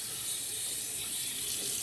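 Tap water runs hard into a sink as a face is rinsed after a shave, a loud, steady hiss from close by with no talk.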